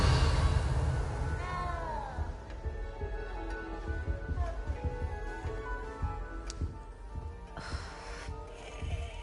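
A cat meows a few times with rising harmonic calls over background game music and ambience in the castle setting of Hogwarts Legacy, moderately close and clear.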